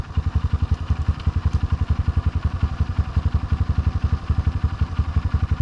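A dirt bike engine at an off-road adventure park putters in a fast, steady, thumping pulse as the clutch is eased out with a little gas, loud and close throughout.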